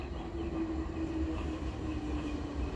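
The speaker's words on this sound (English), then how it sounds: "Now here's my train." Train pulling into a station with a steady low rumble of wheels on rails and a faint sustained squeal, continuous and fairly close, no talking.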